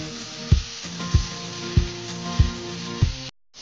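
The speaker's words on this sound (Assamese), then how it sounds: "এয়া এনেদৰে ফ্ৰাই কৰি লৈছো" Fish frying in oil in a kadai makes a steady sizzle under a low hum, with about five evenly spaced knocks or thumps, before the sound stops abruptly near the end.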